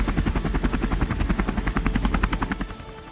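Chinook helicopters flying together in formation, a loud, steady rapid thudding of rotor blades with a continuous engine whine that fades slightly near the end, with no voices.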